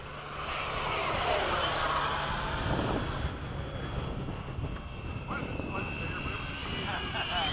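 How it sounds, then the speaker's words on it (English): FMS 70mm F/A-18 model jets flying in formation, their electric ducted fans whining and sweeping in pitch as they pass, loud and continuous, with people talking over the engine noise. "We've got planes coming this way, so go the other way."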